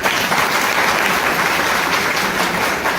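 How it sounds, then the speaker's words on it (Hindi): A crowd claps steadily in a dense burst of applause that continues evenly throughout. "एक बार जोरदार तालियां इसके लिए।"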